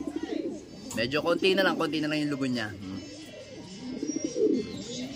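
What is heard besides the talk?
breeder pigeons cooing in the loft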